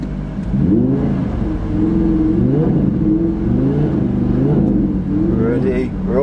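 An Audi R8 V10 Plus engine drones loudly and steadily at a drag race launch, its pitch rising and falling slightly as it holds revs, with a voice speaking over it.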